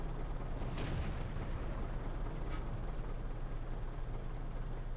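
A tank's main gun fires in World of Tanks, the Type 3 Chi-Nu, as a sharp blast followed by a heavy rumbling tail over a steady low engine drone, with a fainter second report shortly after.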